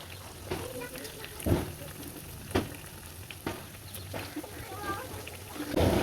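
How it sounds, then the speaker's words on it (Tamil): Potato snacks fry in hot oil in a kadai, a steady sizzle broken by a few louder bursts as pieces drop in, with someone speaking over it. "எண்ணெய் நல்லா சூடாகிட்டு இந்த எண்ணெயில் அப்படி போட்டுடலாம்."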